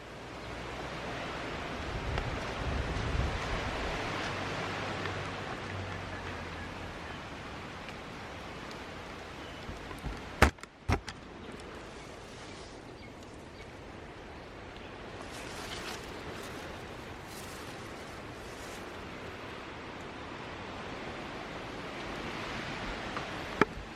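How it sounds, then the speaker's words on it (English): Water running somewhere on a muddy hillside, a broad, steady wash of noise that carries on throughout, with a couple of sharp handling knocks midway and no voices. "There's a bit of water somewhere in this mountainside, in this hill over here."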